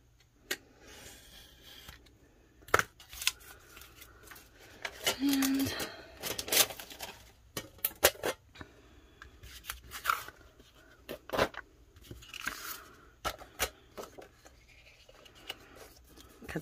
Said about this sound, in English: I've got a white piece of paper and I'm just going to trim it to fit